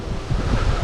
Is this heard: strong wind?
yes